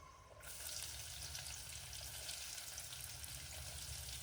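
Whole spices and onion fry in hot oil in a cooking pot, a loud, steady sizzle that starts abruptly after a brief quieter moment and keeps going, with no talking.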